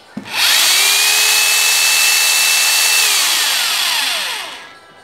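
A cordless hammer drill runs in light hammer mode, a loud steady whine with a buzzing hammer rattle that holds for about four seconds, then winds down as it stops.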